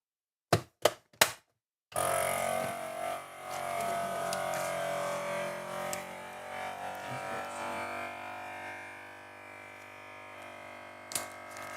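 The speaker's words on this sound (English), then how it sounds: "It's a food saver. I just vacuum packed the Oleo." A few sharp clicks, then a FoodSaver vacuum sealer hums and whirs steadily for several seconds while it seals a bag of oleo, ending with a click.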